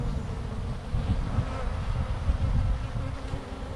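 A swarm of honey bees buzzes around an active hive, a dense, steady drone that holds close and fairly loud throughout, with no voices.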